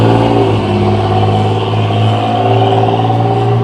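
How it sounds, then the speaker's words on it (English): Loud car engine rumbling and revving on a small-town main street, a close, steady low growl with a deep throbbing idle. "I don't know if I'd want to drive in a car with a motor like that."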